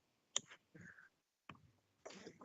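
Mouse clicks on a computer during a robotics simulation, a few sharp separate taps spaced across a quiet room, with faint shuffling between them and no speech.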